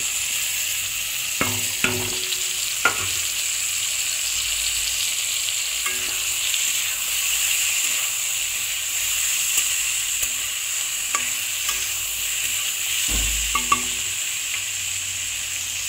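Ridge gourd frying in a pan as fried potatoes go in gives a steady, close sizzle, with a few spatula knocks and stirring thuds scattered through.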